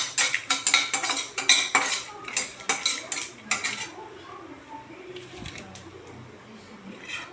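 Metal utensil clinks and scrapes against a pan while cumin and fenugreek seeds are sautéed, a quick run of sharp taps in the first few seconds before settling into a softer, faint sizzle.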